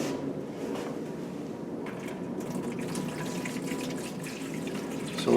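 Water pours into a cooking pot of fresh pumpkin pieces, set to steam for black bean and pumpkin soup, with a steady close splashing flow and no talking.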